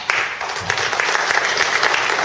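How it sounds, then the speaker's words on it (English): Members at a monthly club meeting give a round of applause for hardworking organizers; a full, continuous burst of clapping from the room, steady and fairly loud from start to finish. "Give them all a round of applause."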